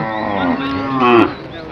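A local cow at the Shiber Bazar cattle market in Sylhet lets out one loud, close, drawn-out moo that swells near the end and then fades.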